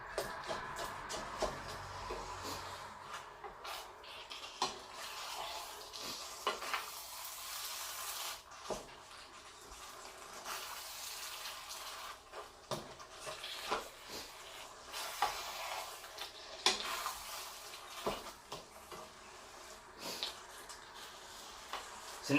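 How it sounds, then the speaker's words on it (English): Sweet peppers frying in a pan on the heat for a chicken curry are stirred about, giving a faint, soft sizzle broken by irregular scraping and clinking strokes throughout, with no voices. "put it back on heat and give that a good mix around"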